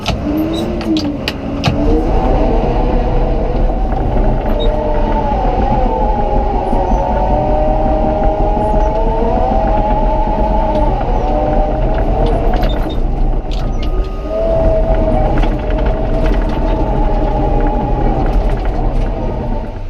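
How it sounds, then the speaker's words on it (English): A truck hauling a load of fill dirt arrives, its loud diesel engine droning steadily close by with shifting pitch as it moves, briefly dropping before surging again. "Here comes another load of dirt."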